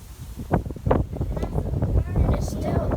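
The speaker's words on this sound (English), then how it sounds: "And it's still windy." Gusty wind in the outer bands of Hurricane Debby, buffeting the microphone with low rumbling blasts while a person talks close by.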